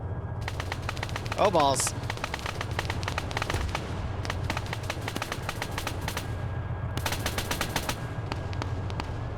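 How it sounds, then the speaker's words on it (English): Bursts of machine-gun and rifle fire in an Arma military op, rapid rattling volleys near and far through most of the stretch, with brief pauses, a short birdlike whistle early on and a man swearing once. "Nějaká palba."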